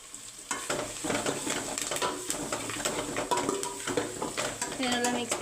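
Masala for a chicken gravy is stirred and fried in a pan, with a steady sizzle under repeated scraping strokes of a spoon against the metal, close up and fairly loud throughout.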